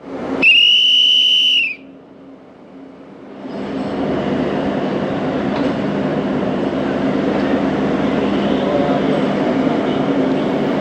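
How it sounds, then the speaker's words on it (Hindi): Tezgam 08Dn passenger train departing Multan Cantt: a loud, steady horn-whistle blast of about a second and a half, then the low rumble and rising roll of the train moving off, continuing steadily. "8:10 पर दोस्तों ट्रेन रवाना हो रही है मुल्तान कैंट से।"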